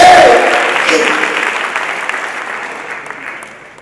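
Applause from a congregation at a Kinyarwanda church gathering, a dense wash of clapping that starts loud and gradually fades over a few seconds, with a voice briefly audible at the start.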